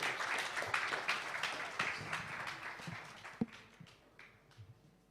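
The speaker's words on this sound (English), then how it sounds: "Please, a big hand of applause." Audience applause at a live event, a moderate spell of clapping that gradually thins and fades, with a sharp knock partway through and scattered voices as it dies down.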